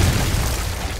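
A C4 charge detonating in Call of Duty Modern Warfare 2 Spec Ops co-op: a loud, dense blast with a heavy low rumble that holds steady for about a second without fading.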